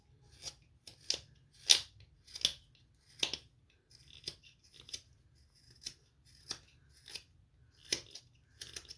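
Paper being cut with scissors while shaping a simple snowman, about a dozen crisp snips in an uneven rhythm, close and fairly quiet, with a low hum underneath and no talking.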